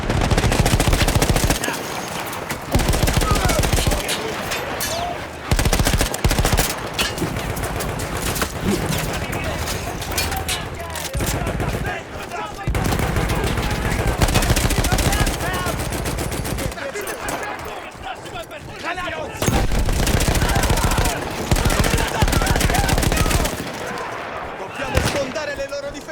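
Machine gun fire in Battlefield 1 from a mounted gun seized from Austro-Hungarian troops, loud sustained bursts with short pauses over battle noise, with voices shouting in the background.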